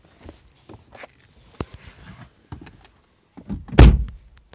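Several short clicks and clunks from a car door handle being pulled against a locked door, ending in a louder thunk, with quiet pauses between.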